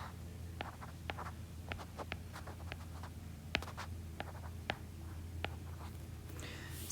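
Pen scratching across paper while a ratio triangle is drawn, with short quiet strokes and taps spaced irregularly, close and soft over a low steady hum.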